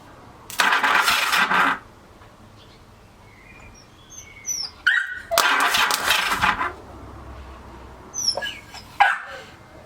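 Yamaha XS850 motorcycle engine cranking on the starter in two loud bursts of a second or so each, with shorter attempts after, and birds chirping in the background.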